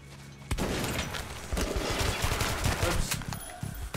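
Heavy shotgun blasts in Metro 2033 Redux, several loud booming shots at uneven intervals over a dense, rumbling game soundscape, with no voices.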